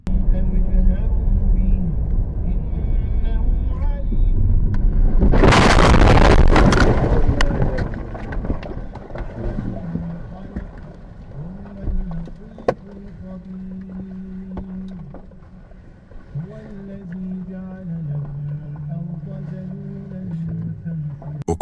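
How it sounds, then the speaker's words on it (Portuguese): A landslide buries a car on a coastal road in dashcam footage, heard as a sudden loud rumbling roar lasting about two seconds. Before and after it, quieter road and engine sound continues under a narrator's voice. "Ocorreu um deslizamento de terra que soterrou seu carro completamente."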